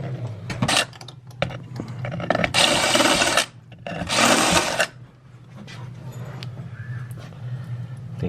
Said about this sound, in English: we gotta drill that out